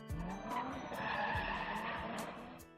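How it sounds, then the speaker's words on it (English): A car in the White Album visual novel lurches off and races forward, tires skidding and squealing over a steady loud engine roar, with repeated sharp screeches through the run. "With a dry, mechanical sound, we take off, the car racing forward."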